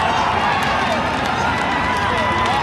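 A stadium baseball crowd cheers and applauds for a player, a dense, steady roar of voices that holds at a loud level throughout with no single voice standing out.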